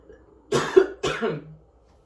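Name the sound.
coughing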